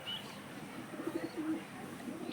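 Pigeons give faint, soft coos at a short distance, a few low murmuring calls over a quiet background with no voices.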